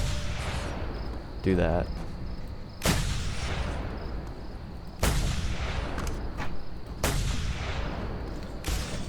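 Gunshots in Just Cause 2 multiplayer: four heavy, booming single shots at spaced intervals, loud and close, with a brief voice and background game ambience in between.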